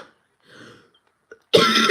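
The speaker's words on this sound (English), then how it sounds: "She says coughing and splattering." A short, harsh cough bursts out near the end, loud and close, after a quiet stretch with faint murmuring.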